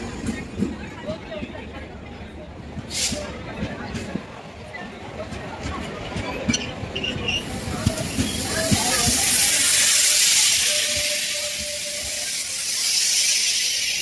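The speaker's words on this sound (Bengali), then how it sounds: "চলে এসছে আমাদের ট্রেন।" A train pulls into a crowded railway station on the Agartala to Belonia route, its hiss and rumble swelling over steady crowd chatter in the second half, with a brief squealing whine near the end.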